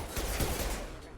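Rapid pistol fire in a Mass Effect 2 combat scene, a quick burst of dense, close shots packed into about a second.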